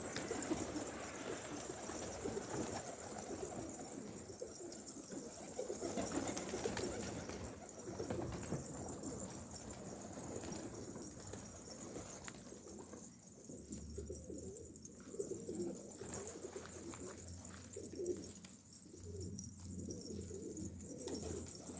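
A large dark pigeon coos repeatedly inside a coop, its low throaty calls close and steady over a faint background hiss, with no talking.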